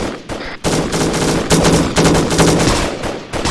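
Automatic gunfire during a platoon training exercise, with loud, close bursts of rapid shots broken by short pauses, repeating over several seconds.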